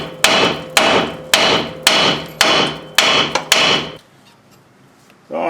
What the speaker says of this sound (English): we'll take a steel hammer here and hit it really hard on this knuckle here